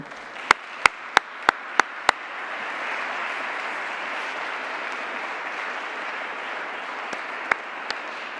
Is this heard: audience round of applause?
yes